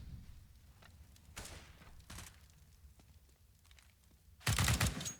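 Gunshots in a competitive Rainbow Six Siege match on the Cache map: scattered, fairly distant single shots and short bursts, then a loud, close burst of rapid fire near the end.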